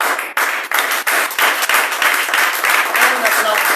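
A crowd claps and applauds continuously, loud and dense, with brief dips in the clapping.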